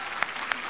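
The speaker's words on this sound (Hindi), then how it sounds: "युवराज सिंह के लिए जोरदार तालियां" A brief, dense burst of studio audience applause welcomes cricketer Yuvraj Singh on a comedy talk show. The clapping stays steady and close, with two sharper claps standing out.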